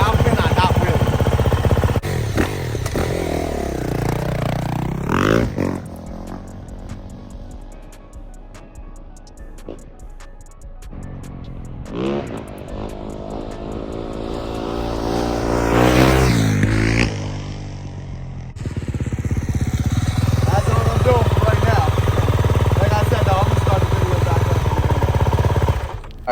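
A 2023 Yamaha YZ450F dirt bike engine idles and revs unevenly, with a steady low rumble broken by louder throttle surges, a quieter stretch and a rising rev near the end; voices are heard over it at times.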